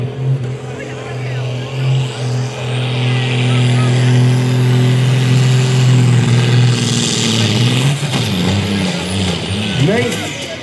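A loud John Deere 6630 tractor engine roars and revs steadily at a tractor pulling event in Halsteren, its pitch rising and holding, then dropping and wavering near the end, close and dominant throughout.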